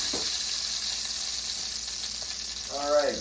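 Steak frying in a pan, a steady close hiss of sizzling fat running throughout, with a brief faint voice near the end.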